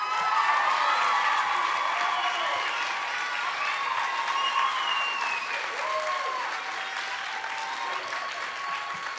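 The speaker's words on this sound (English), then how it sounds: "Now we can clap." Sustained audience applause fills a school auditorium after a high school choir's spring concert awards, a dense even wash of clapping that slowly thins, with scattered whoops and faint crowd murmur.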